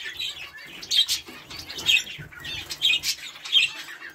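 Canaries chirp in short bright bursts about once a second, with soft fluttering of wings between the calls, close and fairly loud.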